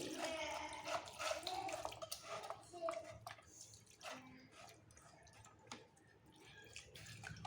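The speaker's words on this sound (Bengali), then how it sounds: "এখন আমি ফ্রেশ পানি দিয়ে ধুয়ে নেব ছানাটি।" Fresh chhana cheese curd is rinsed with running water, splashing and dripping in bursts with clattering, while a person talks at points.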